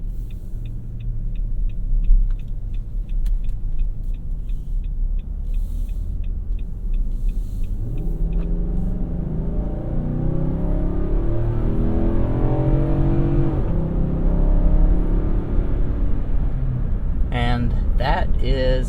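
A 2021 Nissan Armada's 5.6-liter V8 pulls hard with a deep, rising rumble heard from inside the cabin, building steadily in pitch, while a person talks over it.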